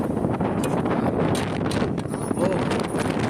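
Strong wind buffets the microphone outdoors at a high school on a very windy day, a loud, constant rumbling roar that fills the whole stretch and covers everything else.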